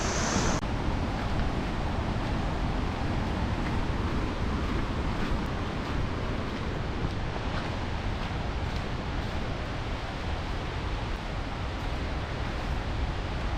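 Meenmutti waterfall at Neyyar pours in a steady, dense roar of falling water, loud and unbroken throughout, with no voices over it.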